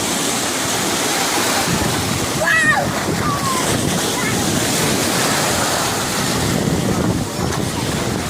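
Sea waves and surf rushing steadily on a Turkish shore, loud and close with wind noise, while a voice speaks briefly over the wash.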